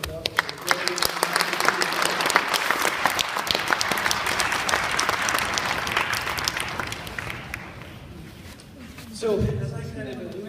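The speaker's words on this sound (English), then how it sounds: "So I'd like to give them a round of applause." Audience applause fills a school band concert hall for an elementary school band, a dense wash of clapping that fades out, with voices murmuring near the end.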